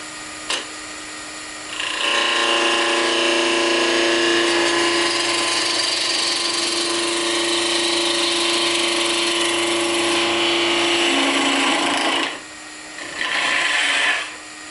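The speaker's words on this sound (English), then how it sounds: "And we'll finish up with a spindle gouge" Wood lathe spinning a dreidel blank while a spindle gouge cuts, a loud sustained whine and shearing hiss for about ten seconds, a brief pause, then a short burst of cutting again.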